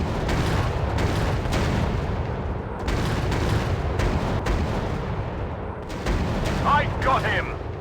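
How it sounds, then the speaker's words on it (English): Rocket explosions and gunfire rumble loudly and continuously through a WW2 dogfight in the game Warplanes, with bursts of booms layered over constant engine and battle noise and brief game voice lines. "I've got this target. Firing rockets."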